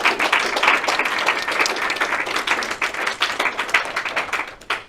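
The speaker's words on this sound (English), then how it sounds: "give him a round of applause" A room full of people clapping, a dense, steady round of applause that tapers off at the end, with no talking.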